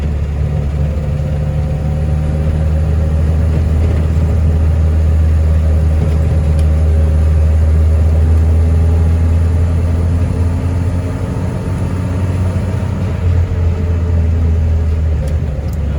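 A Rover P4's warmed-up engine runs in a steady, even rumble at close range, a continuous loud idle with a constant low hum and no pauses throughout.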